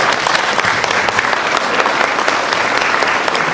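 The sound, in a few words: audience applause at an award ceremony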